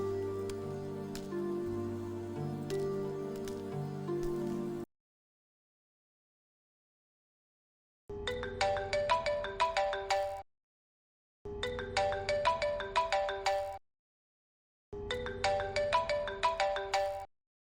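A mobile phone ringtone plays loudly, first as a sustained melodic passage, then after a pause in three repeated bursts separated by short silences, alone without talk.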